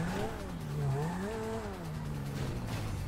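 A low-slung Turismo car in GTA Online drives up onto curbs, its engine droning with rising and falling pitch sweeps and a scrubbing tire noise, loud and continuous throughout.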